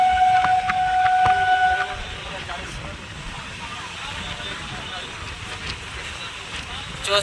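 A train passes a level crossing near a station in West Bengal, heard as a steady rumbling roll with a brief tonal horn-like whine early on, people's voices mixed in the background.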